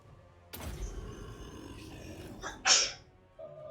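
A single short, sharp sneeze bursts out near the middle of a quiet stretch in a Total War Warhammer 2 gameplay session, with faint background game sound around it.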